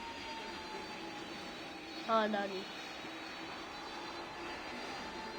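An airplane engine in the Roblox game PTFS drones steadily throughout, a constant mid-level whine, while a voice speaks briefly partway through.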